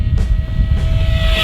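An E-Flite V1200 RC plane makes a full-throttle pass, its high-pitched motor whine loud and steady over a strong low wind rumble, with the tone shifting as it streaks past close by.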